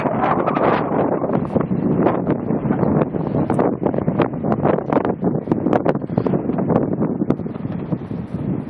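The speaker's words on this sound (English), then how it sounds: "In case there's any question as to how windy it is today." Strong wind roars and buffets the microphone continuously, loud and close, with no other sounds standing out.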